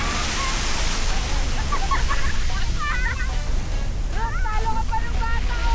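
Large ocean waves crash and wash continuously at Malagundi Point in Lobo, Batangas, a loud, dense surf roar with excited voices and shouts rising above it.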